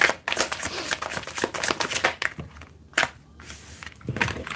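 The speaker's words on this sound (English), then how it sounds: "I need to really shuffle this deck." Tarot cards being shuffled by hand, a run of quick papery riffles and slides close by, uneven in rhythm with short pauses, with no talking.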